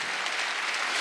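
A church congregation at a Wednesday worship service claps together in a dense, steady burst of applause, loud and close, with no speech over it.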